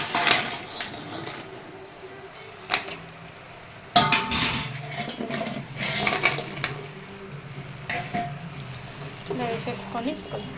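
Utensils clink and scrape against a pan as Manchurian balls go into thick sauce, with a sharp knock partway through and a voice talking over the clatter.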